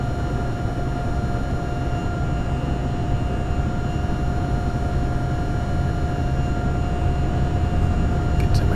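An aircraft engine in a flight simulator drones loud and steady under rising throttle, a constant dense roar with a sustained tone over it and no pauses.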